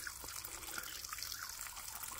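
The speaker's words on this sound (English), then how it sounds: "we're getting water flow coming out of this first barrel, out of this manifold." Water runs steadily from the manifold nozzle of the first of three linked rain barrels, a quiet continuous trickle and splash at close range with no talking over it.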